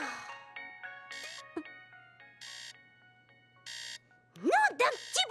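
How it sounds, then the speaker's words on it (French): A cartoon telephone ringtone plays in repeated electronic bursts, fairly close, followed by a sudden excited voice calling out at the end. "Téléphone!"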